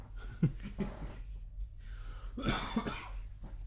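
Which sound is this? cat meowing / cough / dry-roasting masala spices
cough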